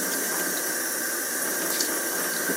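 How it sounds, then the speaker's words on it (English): Tap water running steadily into a cupped hand while mixing quiche dough, a continuous close hiss and splash without pauses, no voices. "I'm actually just taking my hand and I'm just putting a little water in my hand."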